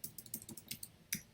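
Fingers type a short word on a computer keyboard, producing about ten quick, soft key clicks in an uneven rhythm, close by and fairly quiet, with no speech.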